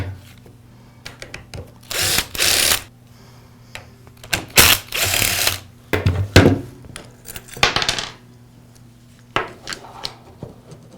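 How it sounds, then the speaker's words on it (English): Screws being removed from the handle assembly of an Echo string trimmer during repair: several short, close whirring bursts of a powered driver, separated by metallic clinks and light handling knocks, with no speech. "Now I'll remove these two screws, and that'll allow me to pull the rest of the handle assembly away."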